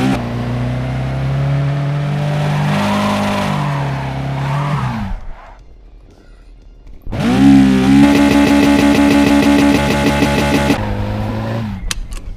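A race car engine in a VR racing game revs hard and sustained, dips briefly to near quiet, then roars back louder with rising gear-shift pitches before cutting off.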